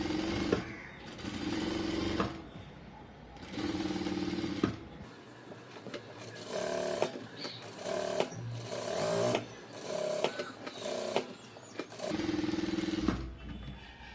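A sewing machine stitches a blouse neckline design in repeated short runs of whirring, humming stitching broken by frequent pauses, heard close and fairly quiet.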